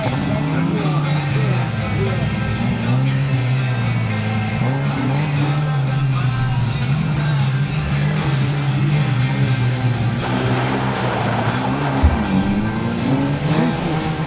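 A sports car in the up-to-1:4 class starts an autoslalom run, its engine note loud and sustained, revving steadily through the clip with a brief sharp burst near the end.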